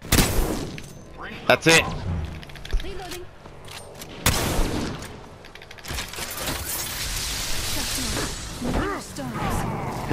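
Bursts of gunfire in an Apex Legends match, loud close shots and rattling volleys mixed with game noise, with players talking over the action.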